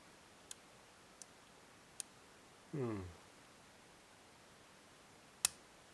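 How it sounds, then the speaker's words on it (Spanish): A lock pin sets during picking with a Multipick intermediate pick set, giving a few tiny, sharp, isolated clicks spaced apart in a quiet room. A voice speaks briefly between them. "Otro clic, he oído saltar algo por ahí"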